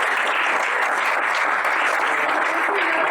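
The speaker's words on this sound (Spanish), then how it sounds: "Un aplauso." Brief, dense applause from an audience at a Spanish-language Bitcoin meetup talk, continuous and fairly loud for a few seconds with no voices over it.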